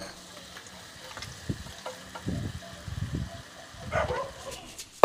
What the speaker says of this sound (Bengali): মশলার সাথে আলু আর মাথাটাকে ভালোভাবে আমি কষিয়ে নেব।